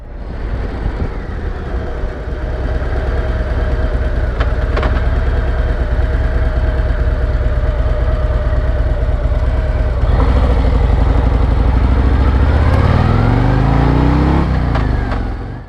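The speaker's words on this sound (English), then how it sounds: "I'm gonna come to stop at the stop sign here" A 2024 Harley-Davidson Road Glide motorcycle rolls to a smooth stop, its steady engine drone running loud and continuous before the pitch sweeps down near the end as the bike slows.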